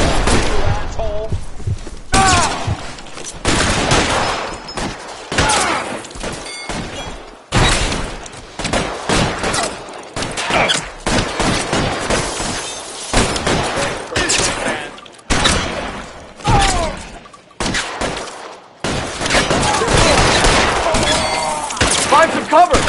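Gunfire crackles through a shootout in the LA Noire video game, dense bursts and rapid volleys of shots with short gaps between them, loud and close, with shouted voices mixed in.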